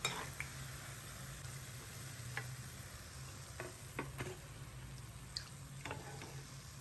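Methi gota, fenugreek-leaf fritters, frying in a pan of oil, with a steady close sizzle and occasional sharp pops and spatters, no voices.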